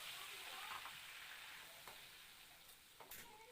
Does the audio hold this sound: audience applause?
no